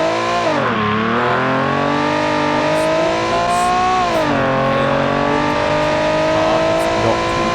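A front-wheel-drive car's engine, built in a game-engine designer, drones and revs in the BeamNG Drive driving simulator, rising and dipping in pitch as it accelerates and shifts, steady and loud with no talk over it.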